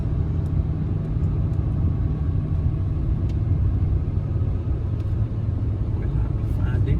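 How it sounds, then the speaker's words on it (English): A car speeds through a small-town street in Red Boiling Springs, Tennessee, its low rumble steady and fairly close for several seconds, with faint talk underneath. "Like another car driving too fast driving through here."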